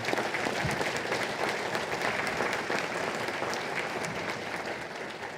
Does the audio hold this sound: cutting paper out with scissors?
no